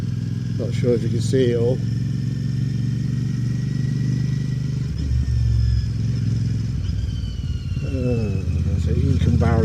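Motorcycle engine while riding through Oundle, a steady loud rumble throughout with wind noise, and someone talking over it at the start and end.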